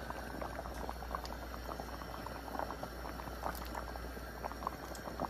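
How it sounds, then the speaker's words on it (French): Fish stew broth boiling steadily in a pot, a continuous bubbling, popping simmer with dense small bursts, close and fairly quiet, with no talking. "nous pouvons vider le poisson dans le bouillon"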